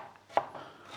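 A knife chopping carrots to the length of celery sticks on a cutting board, two crisp distinct cuts about half a second apart, close and clear with no talking.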